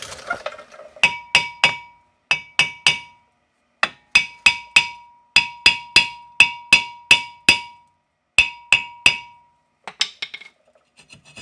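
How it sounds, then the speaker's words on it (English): Sharp metallic brass hammer blows on a rusted rotor of a 2004 Chevy Impala during wheel bearing work ring out in quick bursts of two to four strikes, each clanging with a bright resonant tone, separated by short pauses. "Whack it with a brass hammer and we should be good to go."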